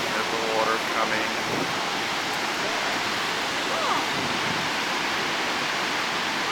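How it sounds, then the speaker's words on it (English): Powerful broadband roar of the Niagara River's water rushing toward the brink of Niagara Falls, a steady, dense wash heard up close with wind buffeting the microphone and no voices. "See how fast the water's moving."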